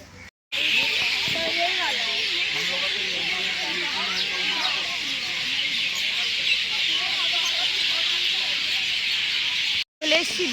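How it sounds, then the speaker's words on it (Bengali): Birds call continuously in a dense, bright chorus on the temple grounds of Belur Math at dusk, forming a steady background wash with someone talking softly beneath it. "বেলুর মঠে নর্মালি তো আমরা পাখির আওয়াজ পাই না এখানে শুনেছেন কত সুন্দর পাখি"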